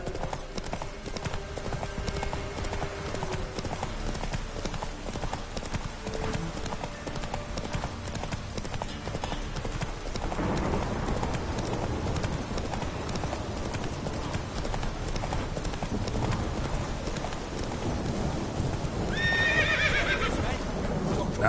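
Geralt's horse Roach in The Witcher 3 game, galloping hoofbeats pounding steadily throughout, joined by a sharp neigh near the end, loud and close, with speech mixed in.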